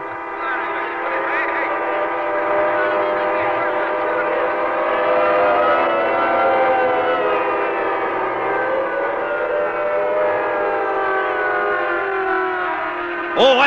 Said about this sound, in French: Arrêtez les klaxons!